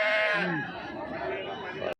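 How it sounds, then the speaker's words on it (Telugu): At the weekly sheep and goat market in Kothacheruvu, Sri Sathya Sai district, a sheep lets out a loud, close, wavering bleat over a steady murmur of people talking among the livestock. "గొర్రెలు"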